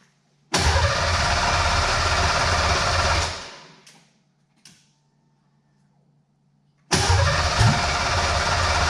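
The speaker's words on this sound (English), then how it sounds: "So I'll put the car down and see if it fires up." A Ford Mustang Foxbody project car's engine cranks with a loud mechanical whirr for about three seconds, winds down and stops, then after a short quiet pause cranks again.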